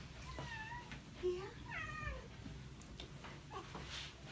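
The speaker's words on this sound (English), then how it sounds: "I'm gonna let my cat say hi because she has been talking this whole time" A cat meows several times in a row, soft and close, with a low hum in the background.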